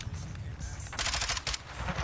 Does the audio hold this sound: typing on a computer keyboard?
no